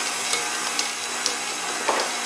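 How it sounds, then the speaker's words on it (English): An electric mixer works cookie dough with slivered almonds at medium speed, giving a steady whirring, churning texture with faint periodic clicks as the beaters turn. "I'm just mixing at medium speed now"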